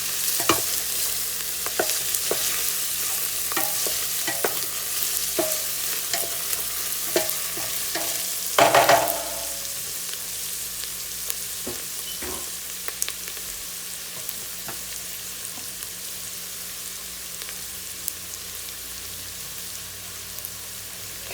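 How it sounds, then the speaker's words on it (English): Garlic sautéing in a pot, a steady sizzle with frequent light spoon scrapes and clicks, and one louder burst of stirring midway through. "now I'm going to go ahead and add in all my garlic. And give that a good stir"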